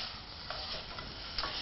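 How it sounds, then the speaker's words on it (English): Minced meat dry fries in a pan without added oil, giving a steady soft sizzle with faint stirring ticks and scrapes, close and alone without talk. "and we call this dry frying"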